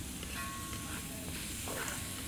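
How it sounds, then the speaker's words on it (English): Onions sizzle and crackle steadily in a hot cooking pan, a constant hissing fry with faint clinks, fairly close and continuous throughout. "I don't know if y'all can hear that sizzle from the onions"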